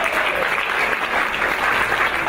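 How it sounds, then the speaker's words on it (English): A church congregation at Hope Church Australia claps loudly and continuously, a close, dense wall of applause with no pauses across the short stretch. "Come on, let's give these guys a big clap."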